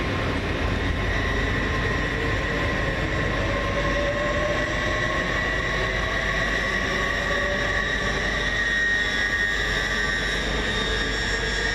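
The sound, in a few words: Great Western Railway train 800 007 departing Reading station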